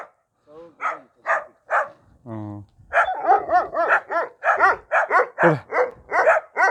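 A dog barks repeatedly in short, sharp bursts, fairly close, alongside a brief whimpering yip, with no one speaking over it.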